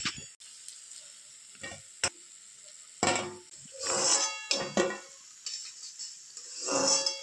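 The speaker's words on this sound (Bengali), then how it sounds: "আবার কিছুক্ষণ ধরে এটাকে আমি ভেজে নেব ভালো করে, লাল লাল করে।" Semolina laddu fritters frying in hot oil, with uneven bursts of crackling sizzle broken by metal clinks and scrapes of stirring in the pan, loud and close, with no voices.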